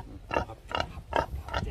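Hungry pigs at a pig-keeping home in Senegal grunt and oink for food. Four evenly spaced, moderately loud grunts come close together without any talk.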